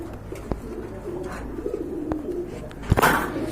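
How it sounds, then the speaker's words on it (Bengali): Pigeons of various breeds coo softly in a loft, with low repeated cooing under scattered sharp taps and a louder rustle or wing flap near the end. "বিভিন্ন প্রজাতির কবুতর রয়েছে"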